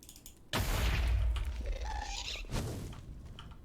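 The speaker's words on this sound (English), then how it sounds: "Fireworks." Two booming Minecraft firework blasts go off, the first heavy and rumbling, the second softer, each trailing into crackling fizz.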